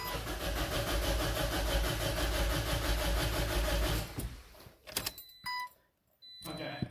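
A Toyota Corolla with a tuner fitted, engine cranking repeatedly without catching, a rapid rhythmic whirring chug for about four seconds that then stops, leaving brief clicks and electronic beeps, with a voice speaking nearby.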